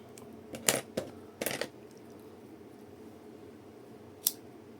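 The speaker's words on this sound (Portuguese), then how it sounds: "Vou cortar aqui o excesso dele" Scissors snip excess crochet yarn close by in a few quick crisp cuts, then a pause in quiet room tone and one final snip.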